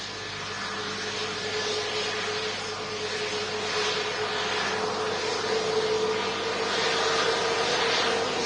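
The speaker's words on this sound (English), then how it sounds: "SAS Neo entering the active runway." SAS Airbus A320neo airliner rolling onto the active runway, a steady distant jet whine and rumble that swells gently, with no voices over it.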